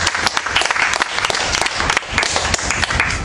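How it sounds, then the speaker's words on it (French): A church congregation in Abidjan applauds during a sermon, a dense, steady wash of many hands clapping close and loud for several seconds with no speech over it. "Acclamez la parole de Dieu."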